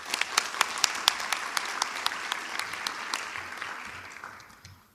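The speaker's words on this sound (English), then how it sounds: "Please welcome them with a warm round of applause." Audience applauding a student research team at a collegiate research paper competition, a steady wash of clapping with sharp individual claps standing out, fading toward the end.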